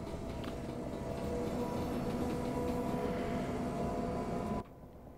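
Electric train on the Chatham Main Line between London Victoria and Dover in Train Sim World 2022, a steady loud rumbling drone that runs continuously and then drops abruptly to a quieter hum near the end.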